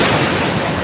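Strong sea waves surge during a typhoon on the coast of Samar, a loud, close roar of surf mixed with heavy wind buffeting the microphone, continuous for a brief moment.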